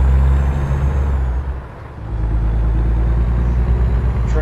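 A heavy 290-horsepower 1978 Scot A2 HD truck engine in American Truck Simulator rumbles steadily, dipping briefly as if shifting gears, then droning on at a constant pitch with a faint hiss.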